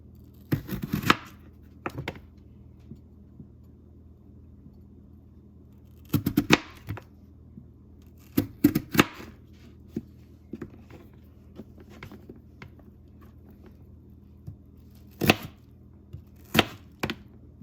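Knife slicing potatoes into fries on a cutting board for battered chicken-fried French fries, heard as scattered sharp chopping taps in small bursts over a low steady background hum, with no talk.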